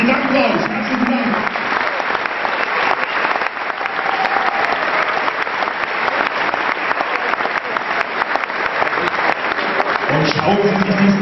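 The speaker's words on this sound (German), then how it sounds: "Das ist alles nur euer Applaus." Audience applauding after a gymnastics show premiere, sustained dense clapping from a large crowd that stays loud throughout, with voices briefly audible near the start and end.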